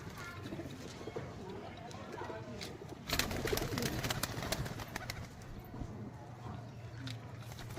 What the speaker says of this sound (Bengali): এই যে আমার কিছু পায়রা, যেসব কাকার বাড়ির থেকে নিয়ে আসা পায়রা সব